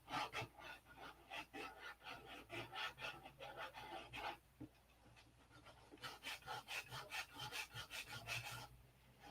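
Sanding a part from a P-47 aircraft by hand, rhythmic back-and-forth rasping strokes in two runs separated by a short pause, close and moderately loud, no voices.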